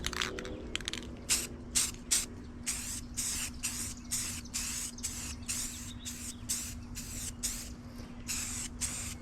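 Rust-Oleum Ultra Cover satin paint-plus-primer hissing from a spray can in a series of short, close bursts, each a few seconds long, over a steady low hum.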